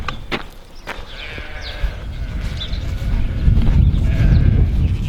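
Sheep bleat a few times while being herded back into a pen, mixed with low rumbling and handling noise that builds toward the end, with faint shouting in the background.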